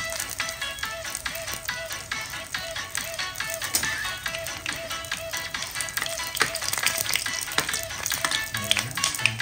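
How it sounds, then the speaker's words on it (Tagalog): Vegetable spring rolls (lumpiang gulay) filled with minced beef fry in hot oil with a steady, dense sizzle and crackle, close and continuous throughout, with occasional light clinks and stirring sounds. "piniprito ko na po ang ating lumpiang gulay with minced beef"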